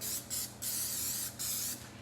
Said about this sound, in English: So I'm just taking some non-stick cooking spray.